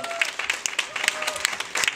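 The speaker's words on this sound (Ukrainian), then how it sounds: "Вам аплодує зараз весь зал." An audience claps in a hall at a live event as a prize winner is announced, a steady patter of many hands with no voices over it.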